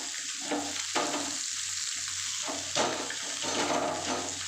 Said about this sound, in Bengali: দেখুন মরলা মাছগুলো দিয়ে দিয়েছি ভাজার জন্য